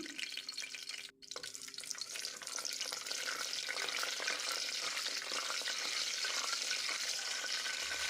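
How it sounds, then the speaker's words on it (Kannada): Bay leaf, cinnamon, cardamom, marathi moggu and shahjeera fry in ghee with a steady, close crackle and sizzle throughout, broken by a brief quiet pause near the start, with occasional stirring clicks against the pan. "ತುಪ್ಪದಲ್ಲಿ ಸ್ವಲ್ಪ ಇದನ್ನು ಫ್ರೈ ಮಾಡ್ಕೊಳ್ತೇನೆ."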